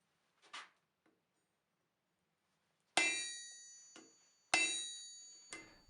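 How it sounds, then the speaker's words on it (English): Hammer tapping a hardy cutter set in an anvil to mark a forged nail: a couple of light ticks, then two sharp ringing metallic strikes with lingering tones, each followed by a softer tap. "I'm using the hammer to mark where to cut."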